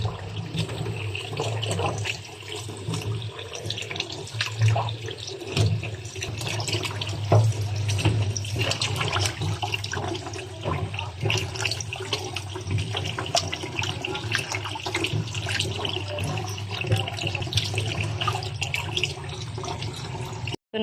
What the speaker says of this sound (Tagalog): ngayon, huhugasan po natin to at hihimayin natin yung kangkong